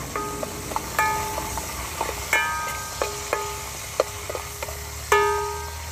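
Onions fry gently in a pot for tinulang manok, with soft sizzling and a series of light metallic clinks and scrapes from stirring, spaced irregularly and fairly quiet.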